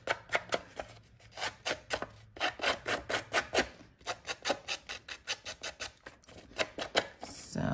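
Old newsprint paper being vigorously rubbed and scrunched to rough it up, a close, rapid series of rasping strokes with brief pauses.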